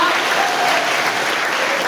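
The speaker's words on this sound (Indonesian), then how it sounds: "Tepuk tangan lebih meriah dong." A church congregation claps at a pastor handover ceremony, a brief, loud and steady wash of clapping filling the room.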